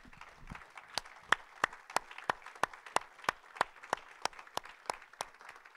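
A congregation at a church service claps in a steady, evenly spaced rhythm of sharp, moderately loud claps, with no talking over it.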